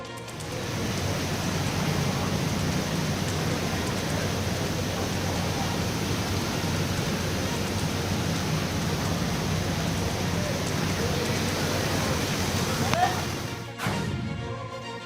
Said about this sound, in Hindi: राजधानी जयपुर में बीती रात से रुक रुक कर बारिश हो रही है